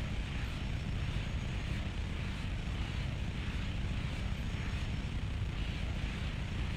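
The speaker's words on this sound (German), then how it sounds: "Was ist mit diesem Jet, ey?" Steady broadband roar of a jet aircraft flying in Just Cause 3, a constant dense engine rush with no breaks, fairly faint and with no talking.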